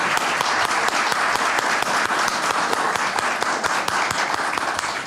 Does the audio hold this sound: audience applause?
yes